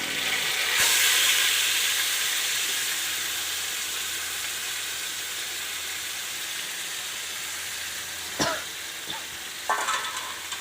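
Chicken pieces hit a pan of hot oil with green chillies over lowered gas, bursting into a loud, steady sizzle that hisses on continuously, with a few clanks of a spoon stirring near the end.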